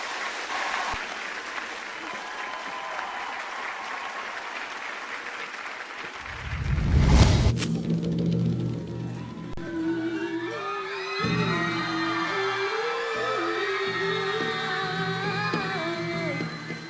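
Studio audience applauding and cheering at a Cambodian televised singing competition, steady clapping that swells briefly then continues under music.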